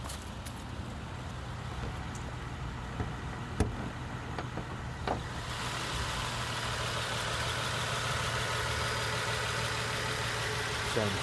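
A 2009 Nissan 370Z Touring V6 idles steadily in the cold, a low even hum that grows louder and closer partway through, with a few faint clicks and handling noises.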